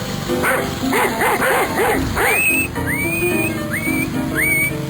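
A dog named in a comedy sketch barks and yips in a quick rhythmic series, then gives rising whistle-like whines, loud and close over a steady high tone.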